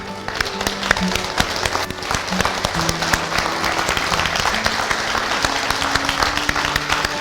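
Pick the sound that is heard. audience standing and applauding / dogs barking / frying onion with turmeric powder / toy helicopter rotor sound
audience standing and applauding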